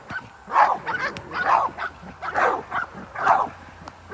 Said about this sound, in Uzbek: Mana bu ham zotdor it ekan,